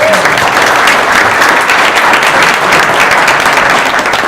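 Steady applause from an audience at a community awards luncheon honoring local businesses, dense and sustained clapping throughout at a loud, even level.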